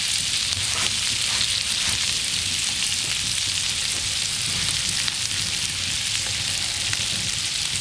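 Herring fillets from Portavogie sizzle in a hot pan after the heat is switched off, a steady, dense crackle of frying that fills the whole stretch without a break and with no voices over it.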